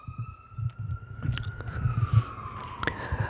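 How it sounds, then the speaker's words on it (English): Sirens of passing emergency vehicles on a street, two rising and falling wails heard at a moderate distance, with nearby clicking and chewing-like noises in the foreground. "these sirens going off"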